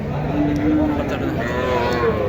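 A young bull calf lows at a busy rural cattle market, its moo drawn out and steady against a dense crowd murmur of livestock and people nearby.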